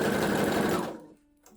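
A sewing machine runs fast and steady, stitching fold-over elastic onto fabric, then stops abruptly after about a second, leaving a faint hum.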